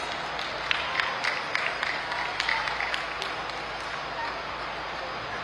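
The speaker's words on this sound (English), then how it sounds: "Can we please have a round of applause?" Audience applause at the closing ceremony of a festival, a steady wash of clapping with a few sharper claps standing out, holding at moderate level throughout.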